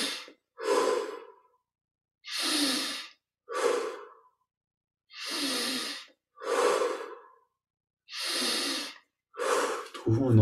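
Slow, deep breaths during a yoga and meditation exercise, each long audible inhale and exhale separated by silent gaps in an even rhythm, close and clear with no other sound.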